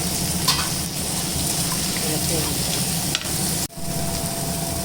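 Tomato, coconut and roasted gram fry in hot oil for a black chickpea curry, making a loud, continuous dense sizzle, close by, broken by brief scraping stirs.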